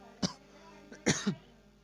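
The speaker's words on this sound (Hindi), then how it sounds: "सॉरी दोस्तों खांसी आ गया था" A person coughs a few times nearby, two sharp bursts with a short gap between, against a quiet background.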